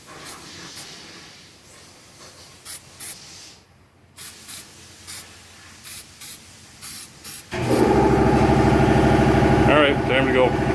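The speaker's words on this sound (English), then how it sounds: "We'll just paint over that." Short bursts of spray paint hiss over a part during an engine swap on a Trailblazer Envoy 4.2, several brief sprays in a row, followed by a loud steady air compressor running close by.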